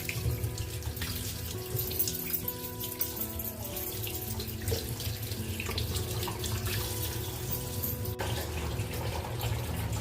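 A kitchen tap runs steadily into a sink while fish is rinsed, with a constant splashing flow and occasional clinks and handling noises nearby and no talk.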